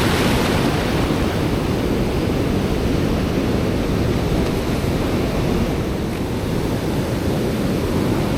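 Ocean surf pounds a beach in a constant loud roar of breaking waves, a thick wash of noise with a windy edge that stays at the same level throughout.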